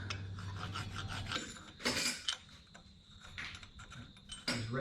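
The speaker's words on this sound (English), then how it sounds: "Where this thread file, you get 8 different pitches for 15 bucks" A thread file rasps over the threads of a Kawasaki Mojave 250 rear axle in several short, close scraping strokes with small metallic clicks between them, no talking.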